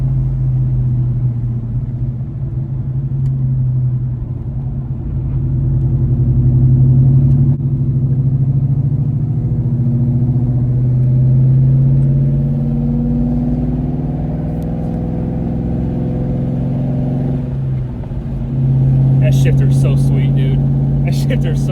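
A Cobra car's engine stays in gear while decelerating, giving a steady, close low rumble that slowly shifts in pitch. A burst of sharp crackling deceleration pops comes near the end.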